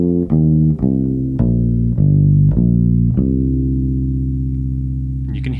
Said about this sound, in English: you can hear those added open strings ringing gently in the background